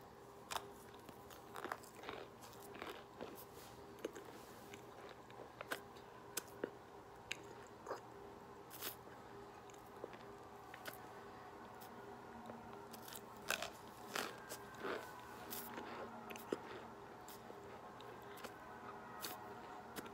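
Repeated crisp bites and crunchy chewing of Argo Yellow Box starch bricks, close and fairly quiet, with irregular cracks and crunches scattered through a steady chewing rhythm and no talk.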